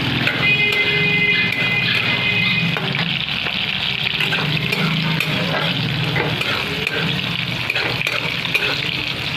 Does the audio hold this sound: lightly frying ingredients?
yes